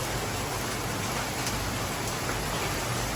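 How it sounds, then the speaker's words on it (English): Steady rain pours down around a covered outdoor spot, a dense, even hiss of drops that stays constant and close throughout, with no voices. "It just started raining, so I figured I'd document the soothing rain of being out here."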